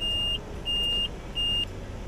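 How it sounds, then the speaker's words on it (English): Warning buzzer in an IVECO Daily 4x4 cab signalling that the front diff lock is engaged: three steady, evenly spaced high-pitched beeps, each about a third of a second long, loud over a low engine hum. "a warning buzzer will continually sound to remind the driver that when the front diff lock is engaged, the steering is affected"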